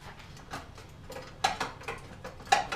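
Bolts being worked loose from a car battery tray with a ratchet wrench, giving close, intermittent bursts of clicking and metallic taps at irregular intervals, with no talking.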